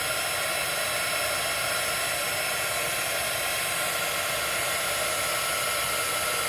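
Heat embossing tool blowing hot air over crystals laid down with a ZIG emboss marker for card making, a steady, even broadband whoosh like a hair dryer running alone throughout.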